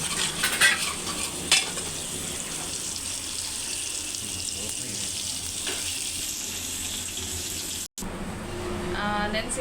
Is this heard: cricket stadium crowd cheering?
no